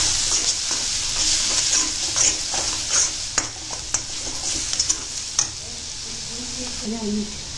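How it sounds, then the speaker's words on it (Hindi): Spices frying in oil in a pan for lauki masoor dal, a steady hiss of sizzling with intermittent scraping clicks of a spoon stirring, close and continuous. "अब इसमें ये ही सारे मसाले डाल करके अच्छे से भून लेते हैं"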